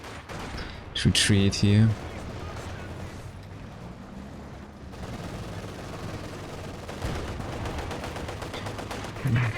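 Bursts of Maxim machine-gun fire and other battle booms rumble through a video game firefight, sustained and dense, with a commentator talking over it.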